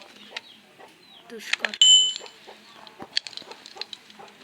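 Chickens cluck in a blocky mining and farming video game, with a few short, scattered clucks and chirps and one brighter call partway through, over soft game background noise.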